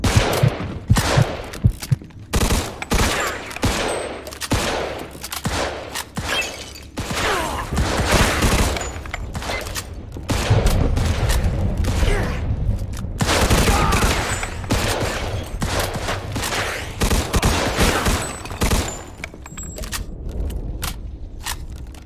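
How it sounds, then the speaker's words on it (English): Sustained gunfire in Mafia II, a loud, continuous fusillade of rapid machine-gun bursts and single shots from close range, pausing only briefly before the firing resumes. "Let's shoot this cocksucker."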